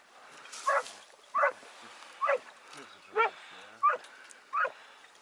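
Hunting dogs bark during a duck hunt, about six sharp barks spaced roughly evenly, fairly close, over quiet outdoor background.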